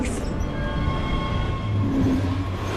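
A subway train runs through a tunnel with a steady rumbling roar and faint thin metallic squeals from the wheels on the track.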